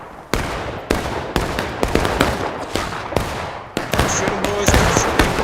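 Musket volleys in a Manassas Campaign Civil War game crack out in sharp, loud shots, about a dozen irregular reports overlapping amid battle ambience.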